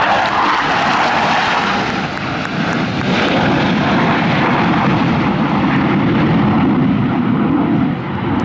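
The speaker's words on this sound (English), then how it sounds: "As they perform the Diamond Aileron Roll." Blue Angels jets roar loud and close during a Diamond Aileron Roll at a Pensacola NAS air show, a sustained broadband engine rumble with a slowly shifting pitch throughout.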